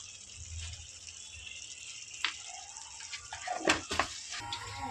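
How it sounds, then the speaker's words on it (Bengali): A bowl rinsed and water poured into it while cooking doi katla fish curry, a gentle running and splashing of water with a few clinks of the bowl, close and moderately loud with no talk. "এবার এই বাটিটা ধুয়ে একটু জল দিয়ে দেবো"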